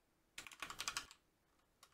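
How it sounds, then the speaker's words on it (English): Quick, crisp typing on a new mechanical keyboard with high-profile keys: a dense burst of clacking keystrokes, then a pause and a couple of isolated taps, close and fairly quiet, with no talking. "I got this new mechanical keyboard and I'm not used to how high up the keys are."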